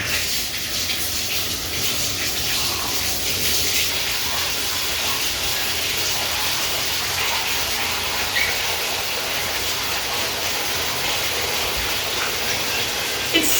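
Water running from a tap into a bathtub over bubble bath, a steady, close rushing hiss that continues evenly from start to finish with no talk.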